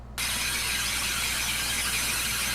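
A loud, steady wall of clattering machinery noise kicks in after a moment of quiet and roars on continuously, harsh and mechanical.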